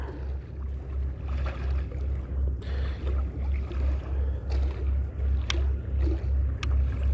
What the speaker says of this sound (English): kind of breezy where I'm at.